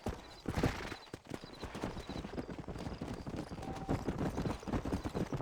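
Rapid, rhythmic hoofbeats of a galloping horse in the video game Red Dead Redemption pound steadily throughout, close and continuous, with a faint tone and a few other noises mixed in.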